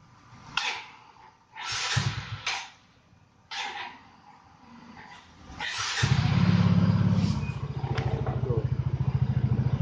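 A motorcycle is cranked on the starter, catches after a few seconds and settles into a steady close idle; scattered bangs and voices come before it starts.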